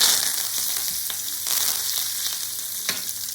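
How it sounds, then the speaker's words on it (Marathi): Mustard seeds, cumin, asafoetida and curry leaves crackle and sizzle in hot oil for a Maharashtrian kurdai bhaji, a steady dense frying hiss with scattered sharp pops, close and continuous, no voices. "आता ह्यामध्ये आपण थोडीशी मोहरी घालूया, त्याचबरोबर जिरं, थोडीशी हिंग आणि कढीपत्त्याची पाने।"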